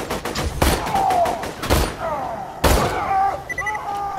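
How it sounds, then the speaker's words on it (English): Enemy gunfire in the Borderlands 2 shooter, a series of sharp loud shots and thuds, some in quick bursts and others spaced out, with faint voice nearby. "Oh, where's this guy shooting from?"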